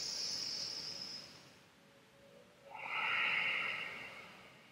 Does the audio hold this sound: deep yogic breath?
yes